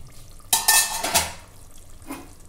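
Par-cooked biryani rice being drained, a sudden rushing pour of water with clattering pot sounds lasting under a second, then quiet kitchen background with a faint later clink.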